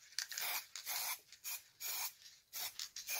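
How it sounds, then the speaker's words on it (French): A can of black spray paint hisses in short, repeated bursts with brief gaps between them, close by and fairly quiet. "bombe de peinture noire. Et puis, on va venir, bomber tout ça."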